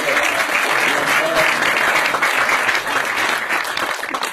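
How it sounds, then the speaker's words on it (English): Loud, steady applause from a crowd, dense clapping filling the room throughout with no pause. "a round of applause for this young lady"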